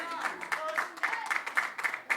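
An audience at a council meeting claps in a brief scattered burst, the sharp hand claps mixed with murmuring voices and someone talking over them.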